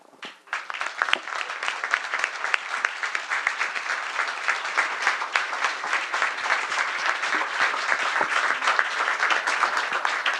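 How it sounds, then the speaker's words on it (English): An audience applauds a student panel with sustained, dense clapping that builds quickly and stays lively and even, with sharp individual claps scattered through the crowd sound. "can we get another round of applause for these students, please?"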